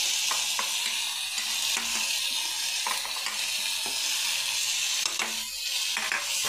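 Eggplant and potato bhaji sautéing in oil with chutney, salt and crushed peanuts, a steady loud sizzle with occasional stirring scrapes throughout, no voices.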